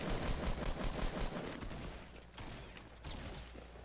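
Rapid gunfire in the video game Fortnite, a dense continuous burst of shots and impacts filling the mix, loud and close, with brief dips between volleys.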